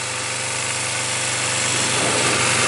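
Kawasaki Ninja motorcycle engine running steadily and loud, with a continuous mid-pitched drone that rises slightly toward the end as the throttle opens, with no voices.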